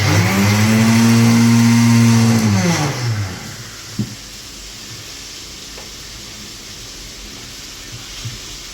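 A kitchen mixer grinder grinding roasted peanuts for chutney runs with a loud, high motor whine for about three seconds, then winds down and stops, leaving a quiet room with a couple of small clicks.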